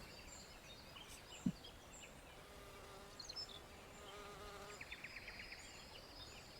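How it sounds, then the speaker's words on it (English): A housefly buzzes faintly close by, its thin drone wavering in pitch as it circles, with a few brief clicks over a steady low background hum inside a Final Fantasy XIV game scene. "a fly buzzing in my ear as I stand here holding this dialogue box open"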